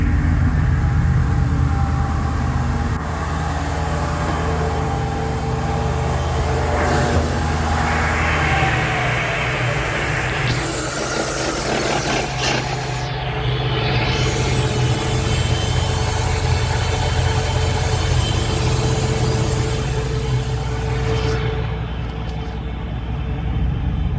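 A 1999 Mercruiser boat engine runs just after a fuel filter change, a loud, steady idling rumble that holds for over twenty seconds with no talking.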